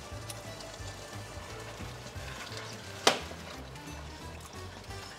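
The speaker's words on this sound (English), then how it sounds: "I'll mix it for another 30 seconds to ensure that the egg cooks properly" Pasta with egg yolks being stirred in a hot pan, a soft continuous sizzle with repeated low stirring scrapes and one sharp clink of utensil on pan midway, close and fairly quiet.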